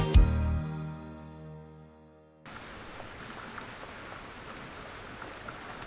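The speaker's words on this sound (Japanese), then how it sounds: "すごい雨。" Heavy rain pours in a dense, steady hiss after a short, fading musical chime, continuing evenly at moderate loudness with no voices.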